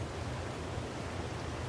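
Waterfall in Diablo 4, a steady broadband rush of falling water, soft and continuous with no voices over it.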